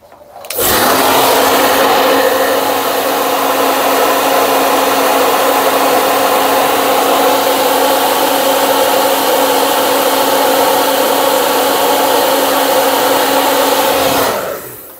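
Heat gun blowing hot air onto a Samsung S24 Plus phone to soften the glue holding a part, a loud, steady close roar with a faint whine, running without a break for about fourteen seconds.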